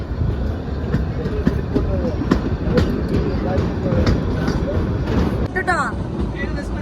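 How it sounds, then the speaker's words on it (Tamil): A train rumbles steadily through a tunnel near Shimla, with rhythmic clattering of wheels and a heavy low roar, then a brief metallic squeal near the end. "டனலுக்குள்ள போகுது ட்ரெயின்."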